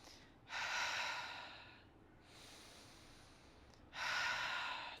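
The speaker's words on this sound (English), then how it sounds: "inhaling through your nose, exhaling through your mouth" Two long, slow breaths in a yoga session, each a soft airy exhale through the mouth lasting over a second, separated by a quieter inhale through the nose, close and gentle with no speech.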